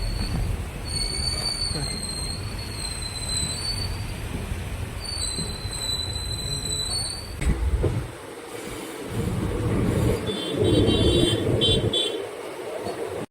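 A nearly empty train rolls along with a continuous rumble and high metallic wheel squeals in long bursts, then a clattering, uneven run.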